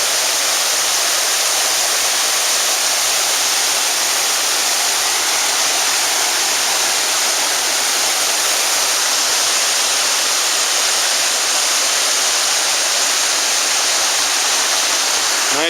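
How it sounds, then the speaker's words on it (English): Indian Creek Falls in the Great Smoky Mountains, a full waterfall with plenty of water, roaring as a steady, loud, unbroken rush of white noise. "Here it is, Indian Creek Falls."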